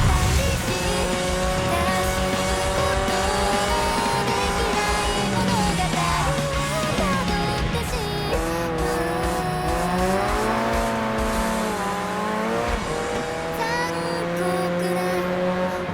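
Cars drifting in the Japanese Drift Master racing game, engines revving loud and continuous with tire squeal throughout, often under game music.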